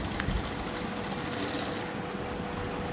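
A sewing machine stitches sharara pajama fabric in one continuous, moderately quiet whirring run lasting a few seconds, with no talk over it.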